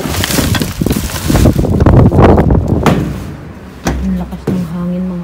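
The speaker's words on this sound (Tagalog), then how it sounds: "Ang lakas ng hangin" Strong wind buffets the microphone outdoors at a dumpster-diving spot, a loud, rumbling roar with gusty surges and rattles, easing toward the end as a low hum remains.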